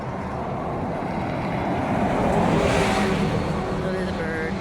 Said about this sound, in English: there's a bus coming